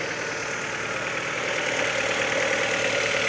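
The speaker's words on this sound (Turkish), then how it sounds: "Şu an için motoru çalıştırdık, suyumuz dönüyor." A Fiat car engine idling after being started, a steady mid-pitched running hum with a faint knocking rhythm, continuous and fairly close with no talk over it.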